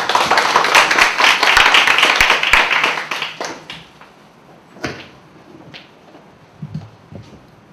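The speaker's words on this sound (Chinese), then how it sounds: "请来宾掌声鼓励" Audience clapping at a graduation showcase for a youth digital music training program, a burst of applause that fades out after about three seconds, followed by a few scattered claps and small knocks.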